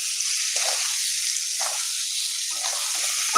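Black mustard seeds frying lightly in a pan give a steady, soft hiss and sizzle with faint crackles, continuous and close, with no talking.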